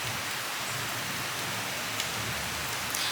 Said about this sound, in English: you hear that? That's thunder